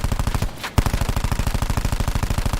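Rapid automatic gunfire from a machine gun in Black Ops 4, loud and close with a steady even rhythm of shots, a brief pause near the start, then continuous firing without talk.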